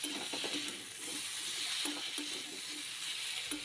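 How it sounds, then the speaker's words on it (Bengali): Spoon stirring ground white mustard paste into a vegetarian curry of drumsticks, potato, eggplant and lentil dumplings in a pan, with soft repeated scrapes over a steady background sizzle. "এবার সর্ষেটা দিয়ে সব কিছুর সঙ্গে ভালো করে মিশিয়ে নিচ্ছি"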